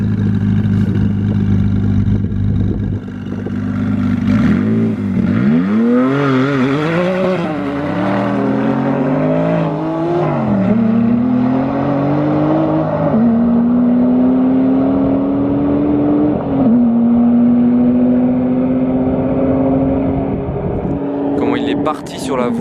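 A Porsche GT1 hypercar on an airport runway idles loudly, then accelerates hard through several rising gear pulls with brief shift dips, its engine note climbing and fading into the distance; people talk over it.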